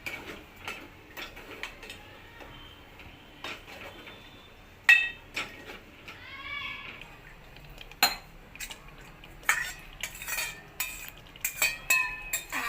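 Dishes and cooking vessels being washed in water in a home kitchen: scattered clinks and clatters of utensils, with a soft wash of running and sloshing water between them. No one speaks.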